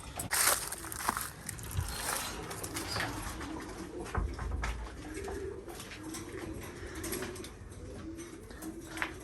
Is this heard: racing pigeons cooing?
yes